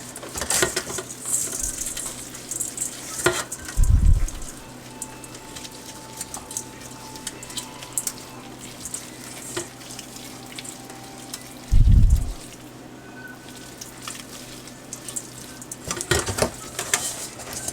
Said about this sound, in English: I'm just going to start to massage it in to all of the places